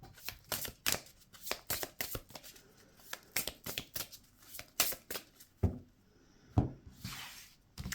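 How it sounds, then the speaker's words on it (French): Tarot cards being shuffled for a six-card spread, a steady run of crisp riffling slaps and flicks close to the mic, slowing to a few louder separate snaps toward the end, with no voice. "on va faire un tirage en 6 cartes"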